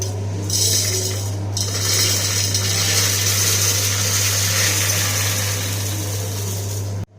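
A mixer grinder pulverises roasted chillies and spices for idli podi, giving a loud, steady whirring drone with a low motor hum that runs without a break for about seven seconds, then cuts off abruptly.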